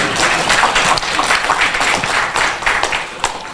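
Audience applause at an Islamic lecture and question session: a close, loud burst of clapping from a crowd, steady for a few seconds before thinning slightly.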